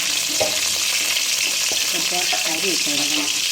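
Mustard seeds and rice fry in a pan with a constant loud sizzle, broken by small crackles and stirring scrapes. Faint voices murmur in the background.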